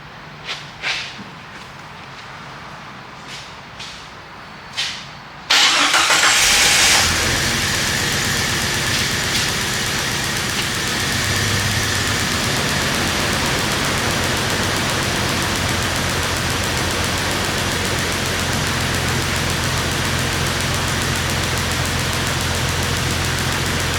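Jeep Wrangler 4.0L engine running rough with two cylinders disconnected: a few faint clicks and taps, then the engine cuts in loudly after about five seconds and keeps up a dense, uneven rumble to the end.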